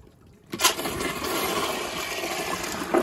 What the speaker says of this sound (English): I like flushing it on the piston flushometer for a reason